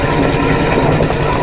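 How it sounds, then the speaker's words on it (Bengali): Ice crushing machine at a fishing harbour grinding ice into a container, a loud continuous engine-like roar and rattle close by with no pauses. "বরফের কল থেকে বরফ এসে গেছে আর এইখানে বরফগুলো পেশাই হয়ে"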